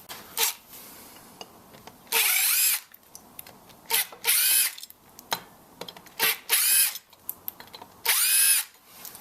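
A power drill removes bolts while an eBike is built, with several short loud whirring bursts separated by pauses and small clicks of handling, close by.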